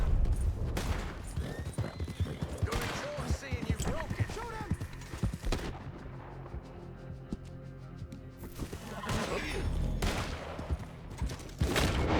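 Gunfire in the video game Red Dead Redemption 2 comes as bursts of shots mixed with hoofbeats and horse sounds, loud in stretches and then dropping off before resuming.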